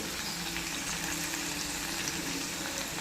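Steady crackling and spluttering of mustard seeds frying in hot oil in a kadai, a dense continuous sizzle with no voices.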